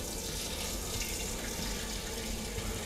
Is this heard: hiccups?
no